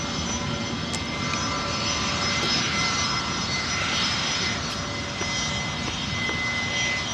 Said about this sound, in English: We've got a private jet coming out and a Spirit, which is always nice to see.